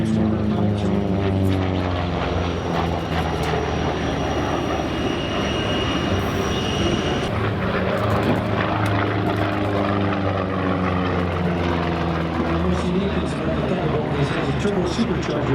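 A P-47G Thunderbolt propeller warplane named Donnie May, with a turbo-supercharger and long exhaust pipes, roars low over an airfield at Santa Maria on California's Central Coast, its heavy engine drone steady and loud as a voice talks over it.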